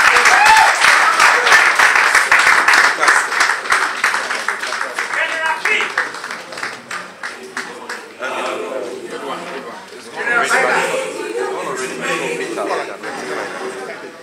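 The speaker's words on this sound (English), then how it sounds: "Another round of applause for the General Secretary." Applause after a speech by a party General Secretary at a political press event: loud clapping from a roomful of people starts strong, thins and tapers, then swells briefly again, with some murmuring voices among it.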